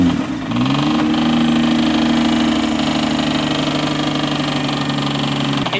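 A 2024 Nissan GTR engine being rebuilt after a wreck runs at a steady idle with a close, loud mechanical drone, a light ticking rattle in the background, and a brief dip in revs at the start.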